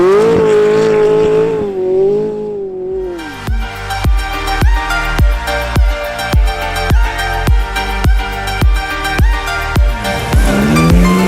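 McLaren 570S sports car on an ice circuit, loud engine pulsing in a steady rhythm of rising and falling revs as it slides, alone without talk, with a brief quieter lull before the run starts.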